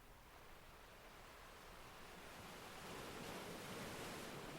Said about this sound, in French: Vous admirez le mouvement des vagues qui va,